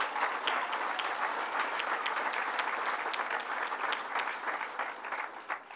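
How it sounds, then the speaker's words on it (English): A crowd gathered for a governor's announcement in Monticello gives a steady round of applause, a moderately distant wash of many hands clapping evenly for several seconds. "Give them a round of applause for that"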